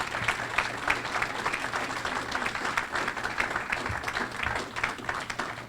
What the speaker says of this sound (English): Please give a warm round of applause for our next speaker